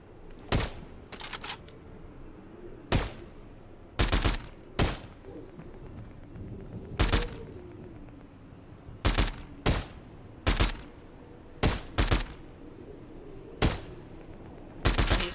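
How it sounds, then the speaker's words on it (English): Gunfire in the Fortnite video game: repeated sharp bursts of shots and single cracks arrive in irregular clusters over a quiet background, fairly loud and close, with no talk. "there's some more shooting"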